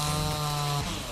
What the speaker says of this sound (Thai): ผมว่าถ้าเกิดเราอยากจะใช้เลื่อยนี่ต้องมีน้ำมันเยอะหน่อยนะครับ